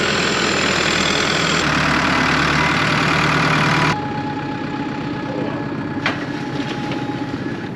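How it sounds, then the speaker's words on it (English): A farm tractor engine idles close by with a steady, droning rumble, then drops to a quieter, continuous hum partway through, with a brief clank near the end. "And Dad right now is bringing over the tractor, so once he gets in line, we'll be starting."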